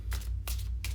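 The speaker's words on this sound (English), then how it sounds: "So I'll do one more shuffle here." Tarot card deck shuffled in quick riffles, three crisp papery bursts close to the microphone over a low steady hum, no talking.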